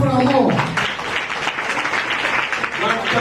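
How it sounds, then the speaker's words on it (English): Audience applause at a government gathering with officials present, dense steady clapping filling the room alongside talk from the stage. "Now let's clap for our more."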